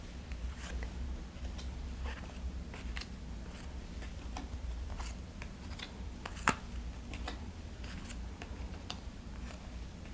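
Playing cards are dealt for a tabletop board game, four to each player, as soft, scattered ticks and light slaps at close range over a quiet, steady room tone.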